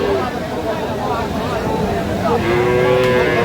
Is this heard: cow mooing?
yes